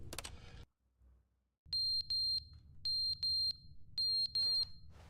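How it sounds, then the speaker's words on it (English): A smoke detector in the game Stanley Parable: Ultra Deluxe sounds six loud, shrill electronic beeps in uneven pairs and singles, each roughly a quarter-second long, over a low rumbling background. "Smoke detector."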